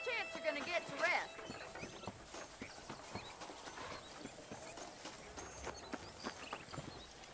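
Horse hooves clip-clopping in the video game Red Dead Redemption, a steady walking rhythm of hoof falls, fairly faint, with a neigh and other game sounds near the start.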